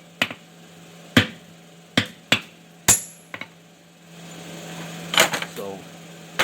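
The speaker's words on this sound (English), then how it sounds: "I'll show you how to cut with a striker." A blacksmith's striker swings a hammer onto a cutting tool to cut hot steel on an anvil. About six sharp, ringing blows land close by at irregular intervals over a low steady hum, with some background voice toward the end.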